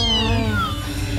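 A cat gives one drawn-out, fairly loud meow with a falling, wavering pitch, heard close and alone.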